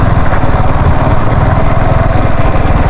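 A motorcycle engine idles steadily at close range, a loud continuous chugging putter with an even rhythm and no break.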